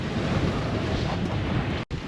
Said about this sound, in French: La mer est vraiment dégueulasse.